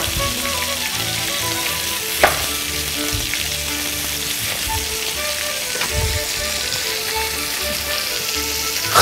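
Seasoned lamb loin and onion cut in large round chunks fry in a pan, a close, steady, crackling sizzle throughout with a few sharper pops and stirring knocks.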